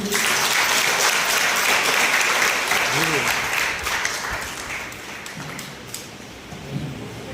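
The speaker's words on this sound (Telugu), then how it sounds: "అందరికి క్లాప్స్ పెట్టండి." A crowd at a church silver jubilee celebration for a nun claps continuously, a loud, dense wash of applause that gradually thins toward the end, with voices speaking over it.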